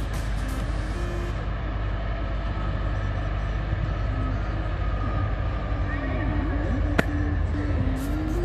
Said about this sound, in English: On a freight train